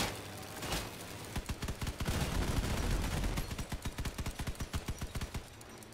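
Gunfire in the video game Bravo 6, a long run of rapid, evenly spaced shots that starts after a few isolated reports, loud and sustained over a dense noisy backdrop.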